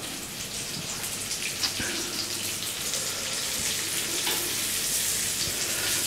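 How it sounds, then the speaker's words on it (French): Beef rump steak searing in a hot pan over high heat, a dense, loud, steady sizzle and crackle with scattered pops that builds slightly and continues throughout. "je vais mettre mon rump steak dedans"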